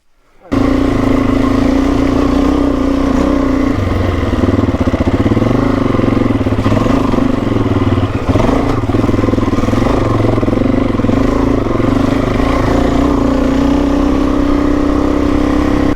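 A Suzuki DRZ400E motorcycle engine droning steadily and loud up close on a hill climb along the Old Coach Road in Cape York, a continuous mid-pitched hum that holds for the whole stretch.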